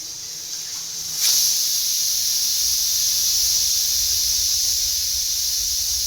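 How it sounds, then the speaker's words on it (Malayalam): Steady loud hiss of steam escaping from a pressure cooker cooking meat rice, a sharp burst rising at the start and then holding as a continuous close rushing hiss. "ഈ കുക്കറിനെ അടച്ച് ഒരു 5 വിസിൽ വരുന്നവരെ വെയിറ്റ് ചെയ്യാം"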